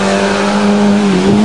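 Transmission on a 1994 Volkswagen Jetta, a loud, close, sustained tonal whine under engine noise that dips slightly in pitch near the end of the short burst.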